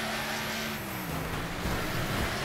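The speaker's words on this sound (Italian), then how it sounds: "Nick sgasa con la sua auto nuova. Ma che roba, accelerazione al massimo." A car engine revs hard on the starting grid in the Wreckfest racing game, a loud, sustained roar with a steady engine drone that swells slightly toward the end of the short burst.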